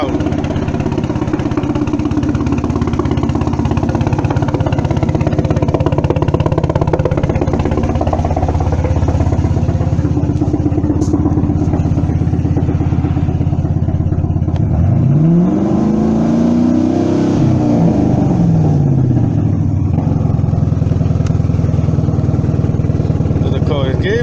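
A car engine running loud and rough while acting up, a steady low rumble throughout with a brief rising rev partway through, heard close up at a shop under some speech.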